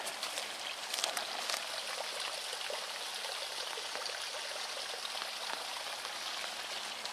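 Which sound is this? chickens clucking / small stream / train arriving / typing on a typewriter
small stream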